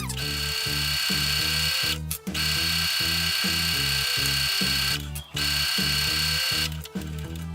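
A sewing machine runs a straight 0.5 cm seam on fabric for a bow scrunchie, giving a loud, fast, even motor whir broken by three short pauses.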